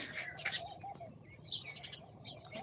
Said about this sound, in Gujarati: પક્ષીઓને ચણ માટે બહુ સરસ મજાની વ્યવસ્થા કરી છે